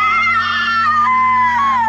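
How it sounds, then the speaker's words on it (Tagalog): A person screams in one long, wavering, high-pitched cry that slides slowly downward, heard alone over a low steady hum. "Yung sumisigaw."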